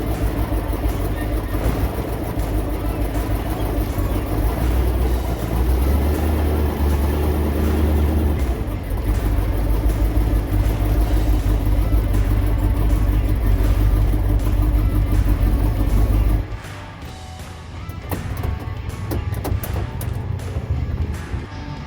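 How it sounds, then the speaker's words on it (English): A 1968 Pontiac Firebird with a 301 engine idles loudly at a drag strip, a deep steady rumble carrying a ticking exhaust leak. The engine note drops sharply near the end, and voices talk in the background. "Pay no attention to the ticking sound. It's just an exhaust leak."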